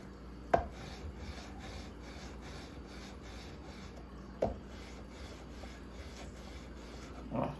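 Steady, quiet scraping of a leveling file or sanding block over the frets of a 2020 Gretsch Electromatic electric guitar, a continuous close rasp broken by a few sharp knocks of the tool, with no voices.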